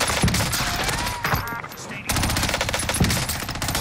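Rapid bursts of FFAR 1 rifle fire in the Warzone shooter game, loud and close, with a brief lull in the middle before the automatic fire resumes.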